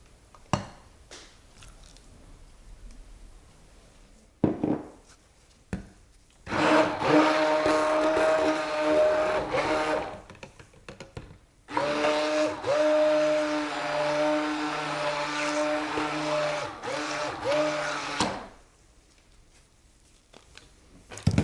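A soap batter blended with fragrance oil, likely with a stick blender, whirs in two long loud bursts with steady tonal hum, separated by short pauses and quiet handling noises.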